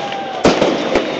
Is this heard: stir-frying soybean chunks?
no